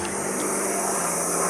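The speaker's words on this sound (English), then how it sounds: "I don't know what the helicopter is for." A helicopter circles overhead, its rotor giving a steady, unbroken broadband drone that fills the whole moment with no talking.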